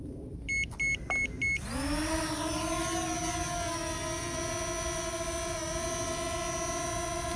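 A JJRC X12 Aurora drone takes off: a few startup beeps, then its motors spin up into a loud, steady, high-pitched whine that holds close and continuous.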